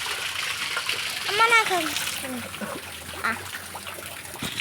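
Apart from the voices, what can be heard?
rainwater flowing on the ground after rain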